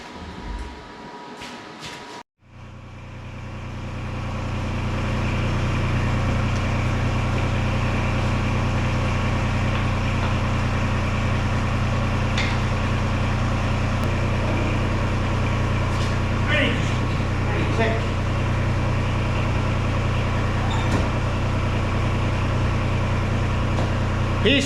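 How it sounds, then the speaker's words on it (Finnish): After a brief start-up, the engine of a homemade finger-bar mower attachment for an excavator revs up and runs steadily with a loud, constant drone and occasional faint clicks. "Tuo tuli vähän kierroon tämä moottori, mutta katsotaan."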